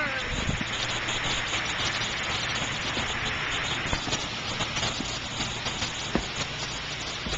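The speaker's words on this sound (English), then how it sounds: "It's raining, buddy." Steady rain falls as a dense, even hiss of drops, close and continuous, with occasional sharper drips standing out briefly.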